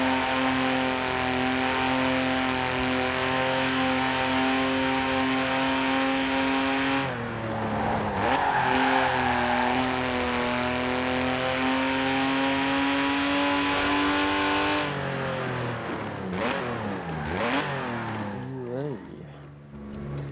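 A Porsche in the video game Forza Horizon 4 drives with a steady high engine drone that holds through several gears, then revs up and down near the end over about twenty seconds.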